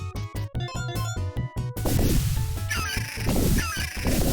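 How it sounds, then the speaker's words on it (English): Loud, repeated cawing bird calls in a video game arrive in rapid bursts, first as sharp rhythmic squawks and then as a noisy overlapping flock over a steady game soundtrack. "Bird noises."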